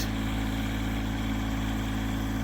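A tractor engine powering a post driver runs at a steady idle, an even, droning rumble with a constant low hum that holds without change at moderate loudness, alone with no talk.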